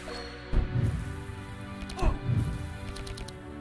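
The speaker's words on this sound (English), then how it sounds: "Healing Rain gets rid of the fire off everyone." The Healing Rain spell in the Across The Obelisk card game plays as two swelling bursts a second and a half apart, each with a soft, rain-like patter over a low ringing tone.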